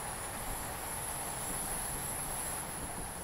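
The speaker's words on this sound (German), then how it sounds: "Da kommt die nächste S-Bahn." S-Bahn commuter train arriving at night in Mainz in Train Simulator Classic, heard as a continuous dense rumble and hiss with a steady high whine throughout.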